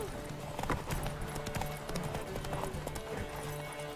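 Roach the horse galloping in The Witcher 3 video game, with a fast, steady drumming of hoofbeats and faint background music underneath.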